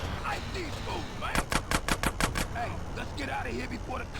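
A rapid burst of automatic gunfire in GTA San Andreas, about eight sharp shots in quick succession, loud and clear over game engine noise and people talking throughout.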